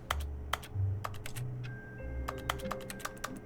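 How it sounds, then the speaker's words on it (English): Keyboard-like typing clicks from in-game clicking in The Stanley Parable: Ultra Deluxe, a steady run of sharp taps, some close together, over a low ambient hum. "clicking at it in the game actually sounded like a keyboard"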